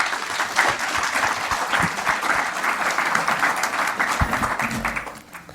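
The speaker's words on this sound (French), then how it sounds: "Vous pouvez l'applaudir." An audience applauds at the close of a conference presenting barometer results, with steady, dense clapping from a crowd that continues for several seconds and then fades toward the end.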